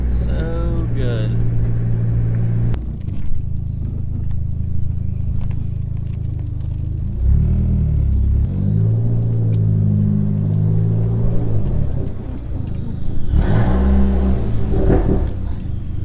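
A Dodge SRT4 car engine idles and revs close by, rising and falling in pitch over a steady low rumble, with brief talking at moments.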